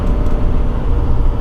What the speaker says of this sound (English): But I love the noise this truck makes. This truck makes a lot of noise. It's a loud diesel.